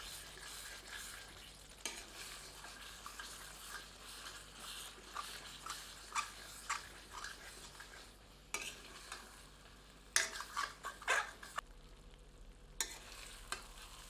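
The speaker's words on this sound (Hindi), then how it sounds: "पुनः करछी चलाते हैं और अब इसे धीमी आंच पर ही 4 से 5 मिनट भूनते हैं" A ladle scrapes and stirs mutton masala in a pan over low heat, with soft sizzling frying underneath and irregular clinks and scrapes of the ladle, close and fairly quiet.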